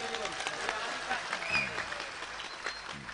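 Scattered clapping rises from an audience at an Indonesian religious lecture held beside a busy road, light and uneven beneath a speaking voice and background crowd noise.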